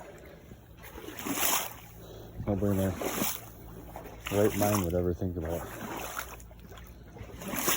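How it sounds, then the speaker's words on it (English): River water flows and trickles in cold winter conditions at a Wisconsin water-trapping spot. It stays soft and steady in the background while someone talks over it. "listen to this water"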